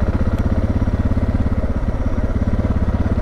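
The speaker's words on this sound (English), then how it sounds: "start the engine. Starts up fine, sits there." A motorcycle engine idling while warming up after a cold start, a loud, close, even pulsing thump at a steady rhythm, alone without talk.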